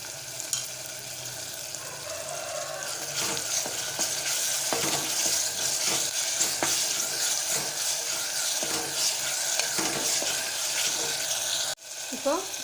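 Ginger garlic paste fries in a pan for a hotel-style chicken kulambu, a continuous close sizzle with occasional stirring scrapes, ending in a brief clatter.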